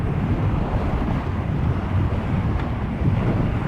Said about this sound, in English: it is getting windy on the highway